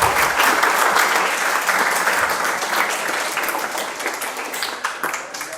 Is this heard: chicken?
no